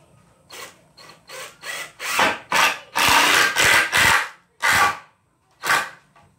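An impact driver drives Phillips screws into a wooden shop door frame, giving a series of loud, close rattling bursts, some short and some sustained, separated by brief pauses.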